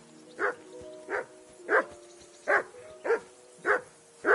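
Steady, insistent barking from a dog in Kingdom Come Deliverance II: seven loud, close barks spaced about half a second apart, with nothing else competing.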